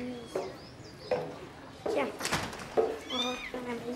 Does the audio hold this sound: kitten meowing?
yes